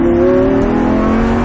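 A Lamborghini engine revs hard under acceleration, loud and close, a steady rising roar with no voices over it.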